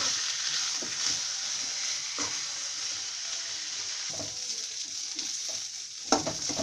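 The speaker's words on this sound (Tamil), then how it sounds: "தூதுவளை போட்டுட்டு இது கொஞ்சம் நமக்கு நல்லா வதங்கணும்." Thuthuvalai leaves with coconut sautéed in a pan for a chutney, giving a steady close sizzle with intermittent stirring scrapes, and nobody talks.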